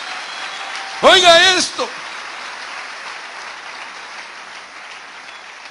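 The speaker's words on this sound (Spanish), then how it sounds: "Dele palmas al Señor de la gloria." Applause from a church congregation during a worship service, a steady wash of clapping throughout with a voice speaking briefly over it near the start.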